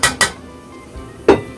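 Metal clatter of a lid settling onto a cooking pot of Delhi nihari: two quick clinks close together, a pause, then a louder third clank, with no talking.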